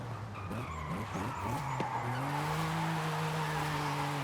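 A BMW M3 drifting in Forza Horizon 5 sends out a sustained tire squeal over the steady drone of its engine, rising slightly in pitch as the slide holds. The sound is continuous and sits close up, with no voice.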